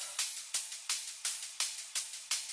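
Several panned drum top loops stacked together in an FL Studio melodic drum and bass drop, pounding out a bright, driving pattern of sharp hits that repeats evenly and loud, with no voices.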